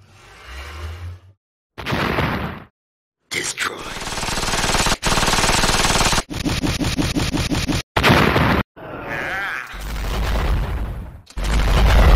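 Rapid bursts of gunfire and booming explosions from the Mini Militia shooter game, loud and close, broken by brief silent gaps and mixed with game effects and music.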